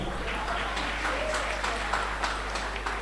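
Applause from an audience at an awards ceremony for academic excellence, a continuous spread of clapping at moderate level over a low steady hum, with faint voices mixed in.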